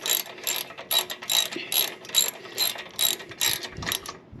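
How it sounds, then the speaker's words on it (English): A socket wrench ratchets while tightening a 3/16 Allen bolt on a Harley Softail Lowrider slip-on exhaust, roughly ten quick clicking bursts in a steady back-and-forth rhythm, close and clear. "Get the socket wrench. Yep, I can get the socket wrench on this one. Tightening down that 3/16 Allen."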